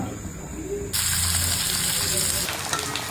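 Prawns coated in rice and semolina fry in hot oil, a steady, fairly loud sizzle and hiss that swells sharply partway through as more prawns go in, with no talking.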